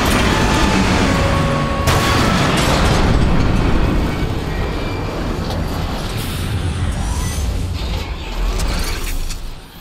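Heavy explosions and weapons fire as Autobots attack a Decepticon warship in War for Cybertron, a loud, sustained wall of booming blasts and mechanical roar with sharp impacts scattered throughout.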